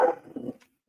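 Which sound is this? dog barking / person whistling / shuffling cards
dog barking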